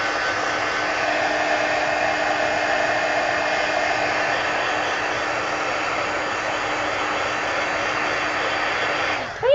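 A heat tool blows a steady, loud whirring hiss throughout while drying varnish on a mixed media planner insert, with no talk, then cuts off abruptly at the very end.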